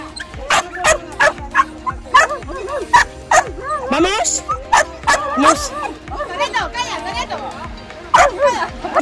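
A dog barking and yipping in the Parque del Andarax in Almería, repeated excited barks and whimpers close by, mixed with people talking and chatter.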